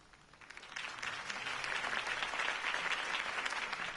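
A crowd in the Lego Batman video game breaks into applause, clapping swelling from sparse claps into a dense, sustained ovation, moderately quiet and with no speech over it.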